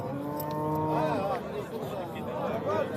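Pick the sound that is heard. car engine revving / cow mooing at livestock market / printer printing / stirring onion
cow mooing at livestock market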